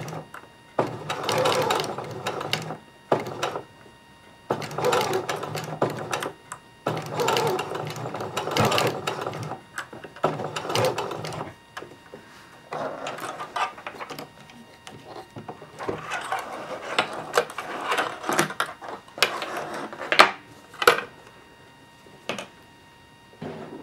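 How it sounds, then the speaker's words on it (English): A close sewing machine joining the pocket of a pair of shorts, whirring in repeated bursts with short stops between runs, and little talking. "now we'll just sew the pocket together so nothing comes out of it"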